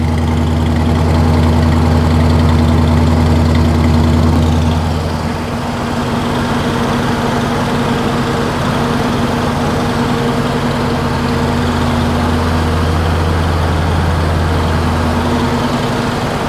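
A 1956 Chevy engine idles at a raised speed of about 1,500 RPM, a steady low drone that runs alone for the whole stretch and shifts slightly in tone partway through as the throttle is held up.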